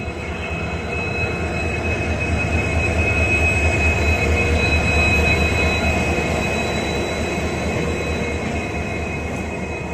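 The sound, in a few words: Indian Railways WDP 4D diesel locomotive train running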